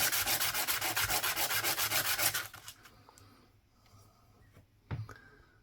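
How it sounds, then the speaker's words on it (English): Sandpaper rubbing hard on a 1930 Finnish one markka coin being shaped into a ring, a loud rapid rhythmic rasping for about two seconds, then quieter scattered scrapes and a brief knock near the end. "I'm with the sandpaper again, man. Cover your ears up."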